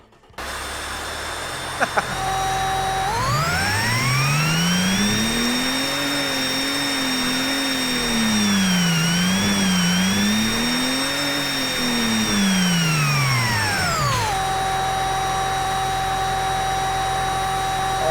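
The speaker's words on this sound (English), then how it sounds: "And why every time I fire up the engine sounds like someone's farting?" Supercharged boxer engine in the Automation car-building game revs up from idle, holds a high whining drone with a rising and falling pitch for several seconds, then drops back to a steady idle. The tone is raspy and buzzy, loud throughout.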